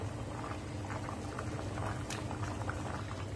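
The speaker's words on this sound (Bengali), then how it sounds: "এখানে বলক চলে আসছে তরকারি" A pot of vegetable curry comes to a boil, giving a steady low bubbling and gentle patter that runs quietly and evenly throughout, with no voices.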